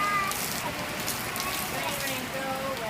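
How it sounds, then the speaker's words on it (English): Steady rain during a big storm pours down as a dense, constant hiss that stays at an even level throughout, close by and with no talk over it. "Rain, go away."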